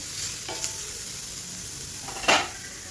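Tomatoes frying in a hot kadai, a low steady sizzle with a couple of short stirring scrapes and a brief louder clatter of the spoon against the pan near the end.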